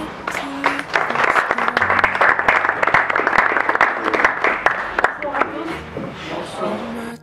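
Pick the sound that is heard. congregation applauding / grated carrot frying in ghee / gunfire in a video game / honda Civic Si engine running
congregation applauding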